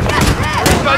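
Call of Duty: Modern Warfare (2019) gunfire during a mission at an embassy rattles in rapid bursts, loud and close, mixed with dense battle noise and overlapping radio-style voices.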